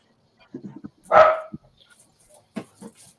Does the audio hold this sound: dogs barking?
yes